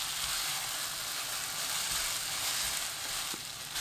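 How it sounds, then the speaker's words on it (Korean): Onion and potato fry hard in two tablespoons of oil over high heat, giving a dense, continuous loud sizzle with a faint click near the end. "팬에 식용유 2큰술, 양파, 감자 넣고 센 불로 2분 볶습니다"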